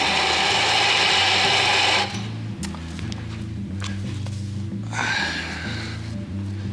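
Burr coffee grinder grinding espresso beans for a fine dose, a loud dense whir for the first two seconds that then cuts to lower clicks, taps and background hum before a brief second burst.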